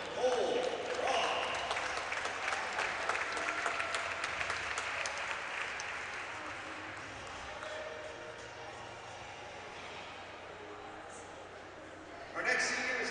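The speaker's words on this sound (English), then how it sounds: "How about a nice round of applause for number 71, Cole Rock." Audience applause honoring a senior hockey player on senior night at a high school rink, a moderate clapping crowd that swells at first, thins gradually, then picks up again near the end.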